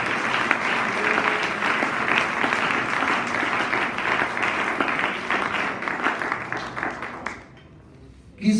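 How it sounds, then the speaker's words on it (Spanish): Church congregation at a Spanish-language sermon applauding, a broad sustained roll of many hands clapping in a reverberant hall that fades out near the end before a brief sound returns. "Denle ese aplauso al Señor Jesucristo."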